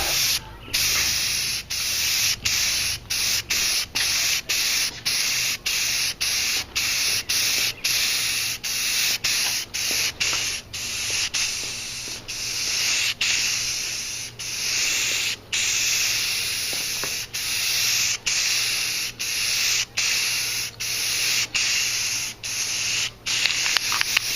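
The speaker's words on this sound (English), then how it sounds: "When spraying with spray paint, sometimes you'll get a pattern look from where your strokes are." Steady hissing spray from an aerosol spray paint can painting a Magneto cosplay helmet, sustained with brief regular pauses between bursts, close to the microphone and without talk.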